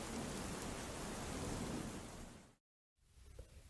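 Heavy rain pours steadily in a dense, loud wash, cuts off abruptly into silence, then resumes softer and more distant.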